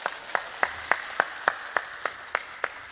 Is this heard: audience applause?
yes